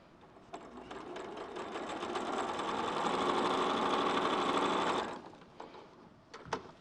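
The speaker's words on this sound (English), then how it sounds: "still with them in a chain, just sewed down the other side" A domestic sewing machine chain-sews fabric pieces for a quilt, its motor whirring continuously and rising in speed for a few seconds before stopping abruptly, followed by a few light clicks.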